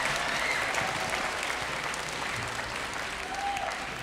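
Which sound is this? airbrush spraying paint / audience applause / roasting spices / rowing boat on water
audience applause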